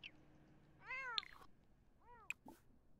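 A cat meows twice in the video game Sims 4, two short, distinct calls over a quiet background, faint overall.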